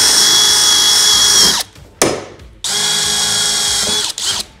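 A power drill runs loud and close as it bores a hole through interior trim in a GMC Savana van, in two long bursts with a short spin-up between and a brief final whir.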